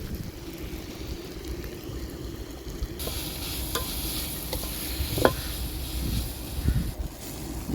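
Tomatoes and masala sautéing for a pork curry, a steady close sizzle with occasional scraping stirs and clinks against the pan.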